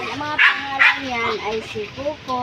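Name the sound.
Pomeranian dogs barking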